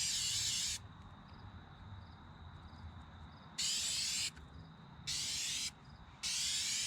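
Duplicolor protective clear coat sprayed onto a car from an aerosol can in four loud, steady hissing bursts, each lasting under a second to about a second, with quiet gaps between them.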